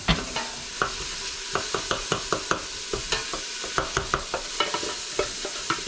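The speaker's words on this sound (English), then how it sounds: "Just stir that up a bit." Maryland crab soup with clumped strips of corn gets stirred in a pot: a bubbling simmer under a steady series of sharp spoon scrapes and clanks, close by, with no voices.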